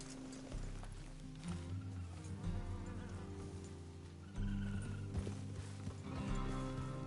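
Horse hooves clip-clop in Red Dead Redemption 2 over a rumbling game soundscape. The sound is moderately loud and steady, swelling midway, with an occasional snort and no talk.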